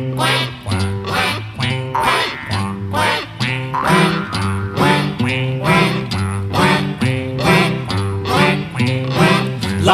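A song intro with a steady run of loud, rhythmic duck quacks over music, close and continuous, leading into a children's action song about a duck.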